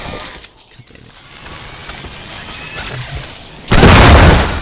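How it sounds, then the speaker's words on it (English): An explosive barrel blows up in the action shooter Shadow Warrior 2, a sudden loud boom that bursts in near the end after quieter game sounds and scattered effects. "the explosion procked in a little barrel next to it"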